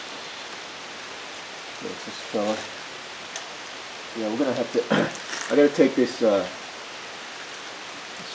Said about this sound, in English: Sorry about that background rain noise, nothing I can do about it.